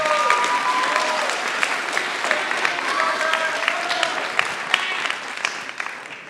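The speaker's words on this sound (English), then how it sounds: "Let's give your parents and them a round of applause." Applause from a high school graduation audience fills a large space as a sustained crowd wash, with scattered whistles and cheering voices mixed in throughout.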